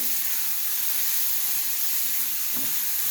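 Tiny prawns sauté in a pan for a Goan Saraswat bhaji, giving a steady, close sizzling hiss that continues evenly throughout with no voices.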